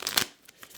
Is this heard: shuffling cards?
yes